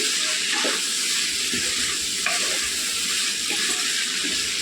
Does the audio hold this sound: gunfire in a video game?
no